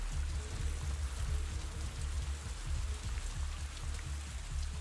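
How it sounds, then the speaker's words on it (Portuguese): Heavy rain falls in Avatar Frontiers of Pandora as a steady dense patter of drops on surfaces, with a low rumbling bed underneath, continuous and fairly quiet throughout. "chuva forte."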